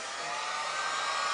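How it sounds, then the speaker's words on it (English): An industrial heat gun used for bending acrylic blows a steady, loud, hair-dryer-like airy rush that holds constant throughout, with no voices. "It's exactly the same as a hairdryer. It's just that it's an industrial thing."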